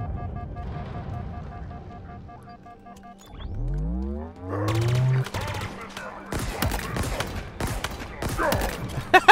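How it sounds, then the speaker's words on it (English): Brute enemies open fire on the player during a Legendary campaign fight in Halo Infinite: humming and sweeping game tones build, then a dense run of sharp, loud gunfire bursts crackles through the second half. "there's too many brutes shooting me"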